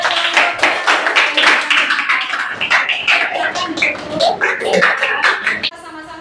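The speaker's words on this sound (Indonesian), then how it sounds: "Berikan tepuk tangan buat" Classroom applause for a student during a mathematics lesson, a dense patter of many hands clapping steadily for several seconds, with some voices mixed in before it thins out near the end.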